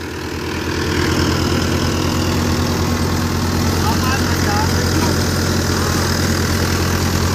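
A four-cylinder Euro 55 diesel tractor engine powers a Multi Malwa thresher, a loud, constant low rumble and mechanical churn that holds steady from start to finish.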